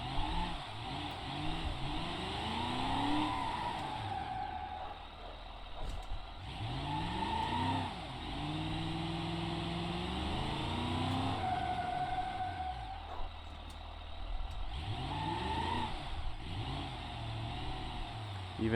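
Simulated car engine revving and whining through a drift in BeamNG, with rising and falling pitch sweeps over steady road and tire noise across the whole stretch.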